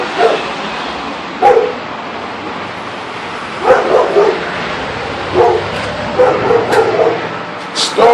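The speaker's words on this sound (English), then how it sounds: "Alright, dog, shut the fuck up." A dog in a new apartment barks in several separate sharp bursts, some fairly distant, over a steady noisy room background, with someone talking at times.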